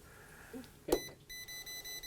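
A quick click, then a steady run of short, high electronic beeps pulsing in an even rhythm, close by and fairly quiet, from a voltage tester touched to a live wire in an 1880s farmhouse basement.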